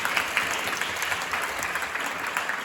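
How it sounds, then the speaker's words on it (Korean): Steady audience applause fills a university awards ceremony as a prize-winning team is called to the stage, continuous even clapping throughout. "박수 한번 부탁드리겠습니다."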